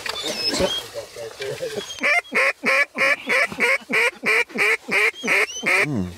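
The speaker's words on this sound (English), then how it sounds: "oh, ducks" Several waterfowl, ducks or geese seen overhead, honk loudly in a rapid run of about a dozen evenly spaced calls, close and strong, following a stretch of people talking.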